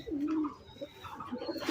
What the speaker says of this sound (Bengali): খুব ভালো একটা কবুতর